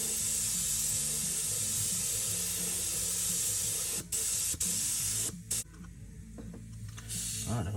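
A spray gun lays lime green paint on a TE Ford Cortina with a loud, continuous close-up hiss, broken by a few brief trigger releases partway through before the spraying resumes.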